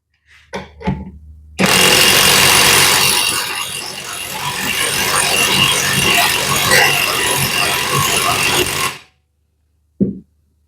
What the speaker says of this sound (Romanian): am să iau impactul de 6 Nm și am să strâng cu el cât de tare pot, cât de tare merge